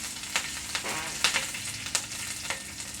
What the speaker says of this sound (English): I'm going to saute those